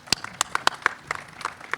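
A handful of people at a conference panel session give scattered applause for the presenters: a few distinct, fairly faint claps spaced irregularly over a quiet room, fading out quickly.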